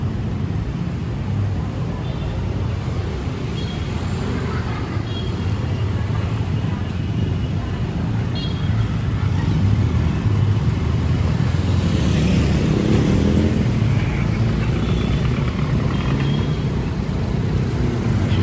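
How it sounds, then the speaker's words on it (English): Busy street traffic in Cebu City, a continuous loud wash of car and motorcycle engines passing nearby with rumbling low end, occasional louder vehicles, and faint voices mixed in. "Just take a look at traffic for a moment."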